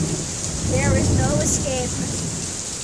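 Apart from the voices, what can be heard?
heavy rain and thunder during a storm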